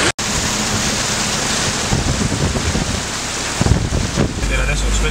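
Rough sea at Marina di Carrara during a storm, with a swollen river overflowing nearby: strong wind buffets the microphone over a loud, constant roar of surf and rushing water, swelling in short gusts.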